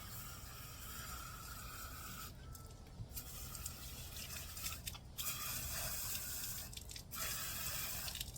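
Water runs steadily from a hose or can onto freshly sown plants in a summer garden vertical planter, a continuous broadband splashing wash with a few brief pauses, close and fairly loud.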